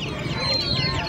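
Desi FFG breed chicks chirp in a brief, close burst of thin, high peeps over a low background murmur.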